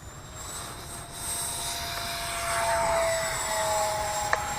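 Freewing Rebel V2 electric model jet taking off, a steady rising ducted-fan whine and rushing roar that swells slightly as it passes, continuous and fairly close, no voices.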